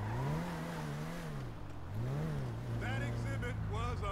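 A car engine in GTA V hums steadily while driving, its pitch swelling and dipping in smooth waves like gentle acceleration, with a person talking over it in the latter part.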